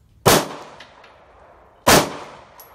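Two loud, sharp SIG Sauer P226 MK25 pistol shots fired at a shooting range, spaced about a second and a half apart, each a sudden crack followed by a short decaying echo.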